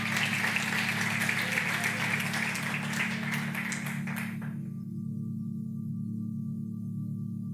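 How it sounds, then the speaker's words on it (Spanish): Audience applause for two volunteers at a church talk, a dense patter of clapping that cuts off abruptly, leaving a low steady hum. "Démosle un aplauso a Benjamín y Marco,"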